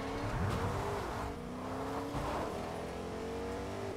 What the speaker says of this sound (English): Oh, he likes the pickup truck better.